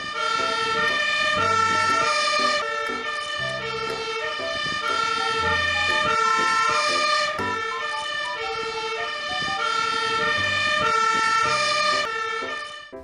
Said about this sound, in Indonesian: Di sini ada mobil pemadam kebakaran warna merah.